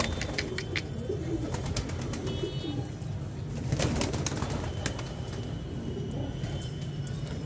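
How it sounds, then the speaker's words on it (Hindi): Racing pigeons, local desi birds for sale in Delhi, coo softly and continuously from a flock, faint and steady against a low background rumble. "लड़ते तोड़ते हुए कबूतर हैं।"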